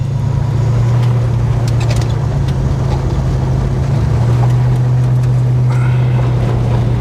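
A car drives down a gravel road, heard from inside. A loud, steady rumble of tyres and engine drone continues without a break, with no talking.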